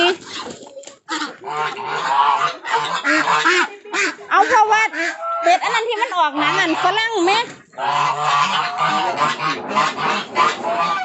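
Muscovy ducks on an integrated duck farm quack and honk almost without a break, loud and close, with someone talking over the flock.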